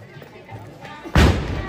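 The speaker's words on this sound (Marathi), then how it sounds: "जोरदार टाळ्या होऊन जाऊ दे." A school audience bursts into loud, dense applause at a primary school's Amrit Mahotsav ceremony in Torsole. The clapping starts abruptly near the end of the moment and stays strong and sustained.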